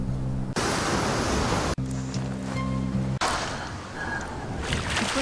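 Ocean waves surge in over deep sand in a dramatic film scene, loud broad rushing washes arriving in several abrupt cut sections, some layered with a low droning tone, no voices.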